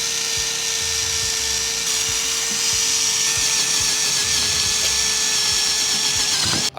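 A worn sanding wheel on a power tool grinds steadily against a powder-coated Buddy Club P1 car wheel, a continuous high-pitched whine with scraping texture, close and loud, no talking.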